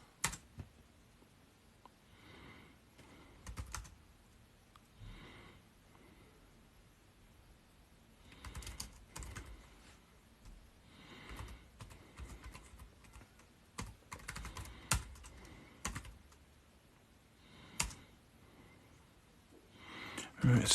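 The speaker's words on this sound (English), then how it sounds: "I'm typing this in rather than just copying and pasting." Typing on a computer keyboard during a Raspberry Pi setup gives faint, irregular bursts of close key clicks and taps, separated by quiet gaps, with some soft breathing.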